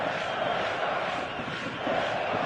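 A packed stadium crowd in the eFootball soccer game at Saitama Stadium, a steady dense roar of many voices with chanting, moderately loud and unbroken throughout, with no single speaker standing out.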